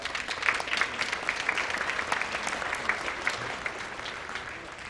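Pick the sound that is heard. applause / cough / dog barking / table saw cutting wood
applause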